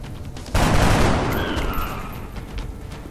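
A sudden burst of gunfire in the turn-based strategy game XCOM: Enemy Unknown, opening with a sharp loud crack, then a rapid rattling volley that rings out and fades over a few seconds, with no talking.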